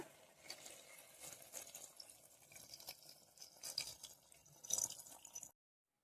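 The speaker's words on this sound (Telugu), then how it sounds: "కొన్ని వాటర్ అయితే యాడ్ చేద్దాం గ్రేవీకి సరిపడా." Water is added to chicken gravy in a pot, heard as a soft, close trickle and splash with scattered drips that build briefly before stopping abruptly.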